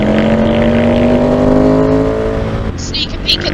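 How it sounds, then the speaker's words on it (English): Motorbike carrying two riders with a 100-horsepower engine accelerating hard to overtake, a loud steady engine drone with rising harmonics that drops off near the end, heard close up under wind rush. "do a safe overtake. Use all 100 horsepower, Joe."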